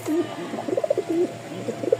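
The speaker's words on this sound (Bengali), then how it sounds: "এত সুন্দর কবুতরের ডাক" A pigeon coos nearby in soft, repeated throaty phrases, the low warbling calls rolling on in a steady rhythm with no talking.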